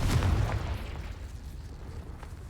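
Confringo blasting spell going off in the Hogwarts Legacy video game, a heavy low boom that hits loudly at the start and then leaves a rumbling roar that holds steady to the end.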